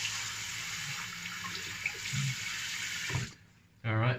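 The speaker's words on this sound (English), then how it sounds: "let's rinse the face off and go for the second pass" Water runs steadily from a tap into a sink for a face rinse after shaving, a close, continuous splashing rush that stops abruptly near the end, followed by a short burst of voice.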